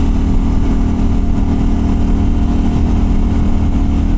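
A CFMoto Ibex 800T adventure motorcycle's engine drones loud and close while riding, a continuous rough roar with wind noise and no speech.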